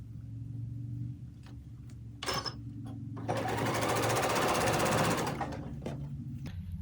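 A sewing machine pieces two quilt half-square triangles together for a bear-paw block, a soft hum with a few short stitch bursts, then one longer, louder run of fast stitching before it quiets.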